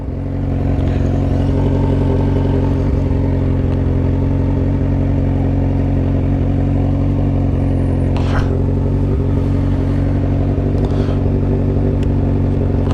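Kawasaki Z900 RS motorcycle with a stainless steel 304 header and exhaust, engine running loud and close with a steady, throaty idle and a few sharp blips of the throttle, with no talking.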